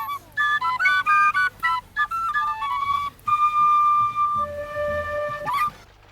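A Clarke tin whistle plays a lively melody, clear and close, with quick runs of short notes followed by longer held tones and a final high flourish.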